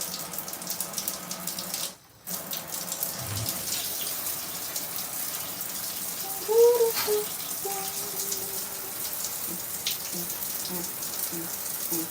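Steady hiss of shower water running continuously, fairly close, with a brief dropout and a few faint clunks and squeaks along the way.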